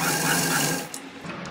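A sewing machine runs steadily, stitching folded cloth around a neck design, with a dense continuous whir that eases and softens toward the end.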